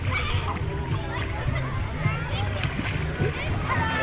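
Water splashing and sloshing as a child plays in a pool outdoors, with steady continuous splashes close by and children and adults talking over it throughout.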